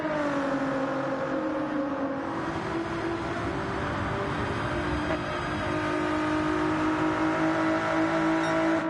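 A Ford race car in Gran Turismo 7 drones steadily under load, its engine a continuous buzzing tone that sags slightly and then climbs in pitch, loud and constant throughout with no one speaking.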